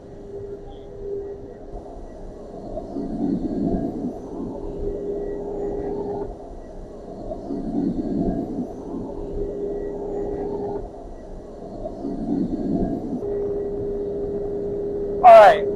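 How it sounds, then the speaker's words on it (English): Steady low whooshing hum of a 1963 Chrysler Turbine Car's turbine engine idling with large stainless steel dual exhaust ducts, moderately loud and continuous with slow swelling pulses, ending in a brief sharp noise. "This thing sounds like a jet."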